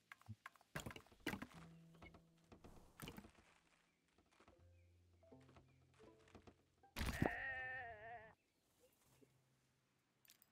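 A sheep bleats once in the game Tiny Glade, a wavering, shaky cry amid scattered thumps and clicks of game sounds, with low hums and quiet pauses around it.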